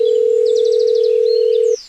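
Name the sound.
telephone dial tone while placing a call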